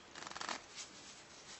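A deck of playing cards being shuffled by hand during a magic trick, a quick burst of riffling flutters near the start followed by softer rustling, close and fairly faint.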